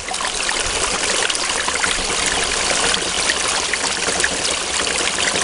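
Water from a 2,000 gallon per hour pump rushing through a silicone-matted sluice box, a close, steady, even gushing flow with no breaks and no talking.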